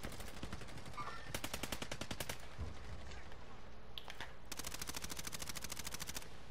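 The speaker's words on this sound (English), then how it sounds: "They're getting shot at." Video game gunfire: rapid automatic bursts in two long strings, sharp and fairly close, with quieter single shots and game noise between them.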